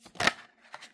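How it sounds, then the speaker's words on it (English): Tarot cards being shuffled by hand, a soft papery riffle close by with a louder burst early on and lighter flicks toward the end. "You don't have to shuffle so much."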